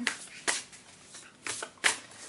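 Tarot cards shuffled by hand in a quiet room, with four or five short riffling bursts at irregular intervals, close and fairly soft, no talking.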